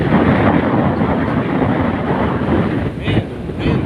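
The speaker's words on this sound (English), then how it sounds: "Man, the wind is just crazy." Strong wind on a long open beach buffets the microphone in a loud, continuous roar, with a few brief gusty flutters near the end.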